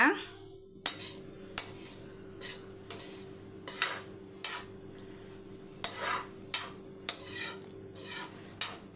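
Lemon rice being mixed in a pan, a steady run of metal spoon scrapes and clinks repeating roughly every half second over a low hum, no one speaking.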